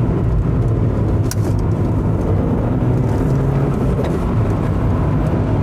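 A Volkswagen Golf GTI Mk3 hatchback engine drones steadily and loudly from inside the cabin, a low continuous hum with slight rises in pitch.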